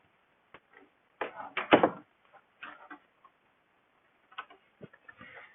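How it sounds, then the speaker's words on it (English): A room door being shut, a few scattered taps and knocks with a louder clunky burst of handling, then quieter clicks, fairly close in a quiet indoor space. "I'm gonna close this door real quick."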